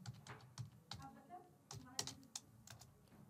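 Typing on a computer keyboard, a steady run of quick, light key taps with irregular rhythm at close range, fairly quiet throughout with no other sound standing out.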